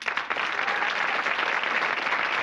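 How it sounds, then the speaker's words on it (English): A television studio audience bursts into dense, sustained applause as game show contestants walk on, a full, even wash of many hands clapping with no speech over it. "so a round of applause as in they come."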